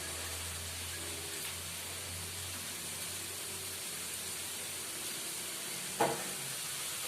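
Vegetables sizzle in a wok with an even, hissing crackle throughout, and one brief clink of a utensil sounds near the end.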